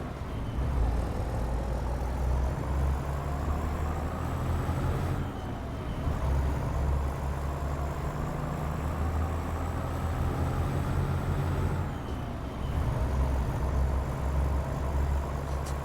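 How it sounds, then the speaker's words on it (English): A truck's 330 horsepower diesel engine drones steadily from inside the cab on the road from Holyhead, a loud continuous low rumble with gear-change dips and no talk. "330 horsepower engine"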